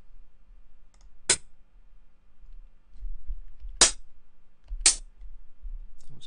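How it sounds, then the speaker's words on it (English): Hi-hat samples from a drum sample pack, auditioned while building a liquid drum and bass kit: three crisp, sharp metallic ticks, each isolated and irregularly spaced, with nothing else sounding between them. "Some hi-hats."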